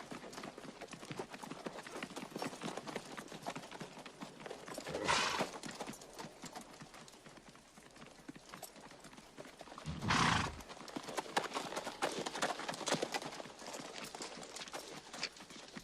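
Horses move in a dramatic battle scene, rapid hoof clatter running throughout beneath a dense mix, with two louder surges of whinnying or rushing sound cutting through.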